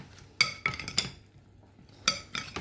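Utensils stir a cucumber salad dressed with grapeseed oil in a bowl, giving a few sharp clinks against the bowl between soft scraping and tossing, close and fairly quiet, with no talk.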